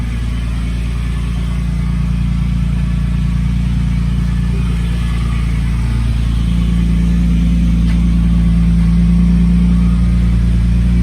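A BMW E36 325i with a turbocharged engine runs close by, holding a steady, deep idle throughout, with a slight shift in its tone partway through. No one speaks.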